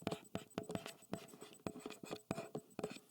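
Marker strokes on a board while rational and real numbers are being classified: a quick series of sharp, scratchy squeaks and taps in close succession, near and clear, with no talking.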